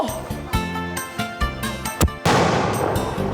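A firecracker cannon blast in Changhua, Taiwan: a sudden loud boom cuts in after a run of tonal, rhythmic sounds, then a sustained roar of noise follows.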